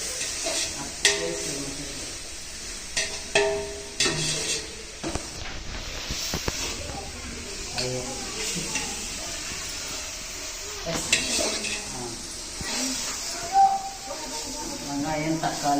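Onions, tomatoes, ginger and garlic sauté in a pan for chicken biryani, a steady sizzle with stirring and scraping running throughout, while people talk over the cooking.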